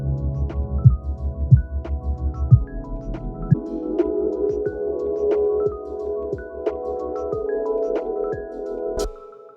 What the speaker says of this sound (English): So that's what you call muddiness